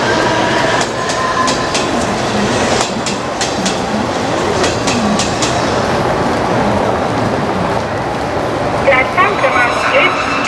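A train at Borivali railway station in Mumbai rumbles past loudly, with rhythmic wheel clatter and metallic clicks over a continuous roar, while station noise and voices sit underneath.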